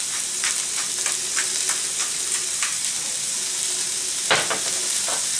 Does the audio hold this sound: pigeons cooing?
no